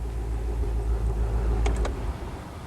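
A Range Rover engine idles with a steady low rumble, close and even, with a few brief light clicks near the end as the rumble eases slightly.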